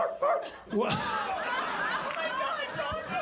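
A man vocally imitates a dog, giving a quick run of yips and barks in a close, loud voice with no real dog present.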